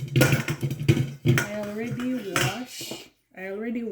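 A metal grater and a cooking pan handled in a home kitchen, clanking and scraping loudly close by while a person talks over most of it.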